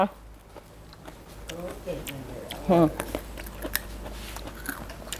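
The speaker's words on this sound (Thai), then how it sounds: "กินแคบหมูโชว์หน่อยสิ" Crunchy pork cracklings are bitten and chewed, giving a few crisp crunches over a few seconds amid background voices and household noise.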